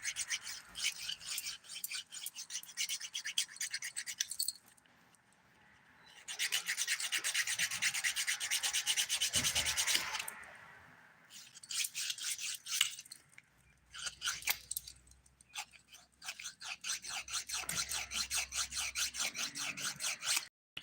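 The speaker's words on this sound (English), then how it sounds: "180 grit file. That's the side of it I'm using. The other side is 100 grit." Fingernail filed with the 180-grit side of a skinny nail file during an at-home dip powder manicure: close, rasping strokes in several long bursts, separated by brief pauses, with no talking.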